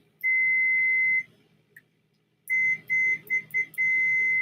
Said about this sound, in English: So it should have that beeping sound whenever you're testing it.